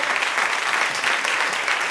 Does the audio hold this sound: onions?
no